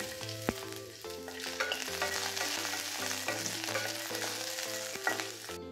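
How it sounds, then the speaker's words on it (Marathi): Green chilies roast in hot oil in a pan, giving a steady close sizzle with light stirring and occasional scraping clinks, quiet overall and without speech. "मिरची भाजण्यासाठी यामध्ये मी थोडंसं तेल टाकून घेणार आहे, जेणेकरून मिरची चांगली भाजल्या जावी यासाठी।"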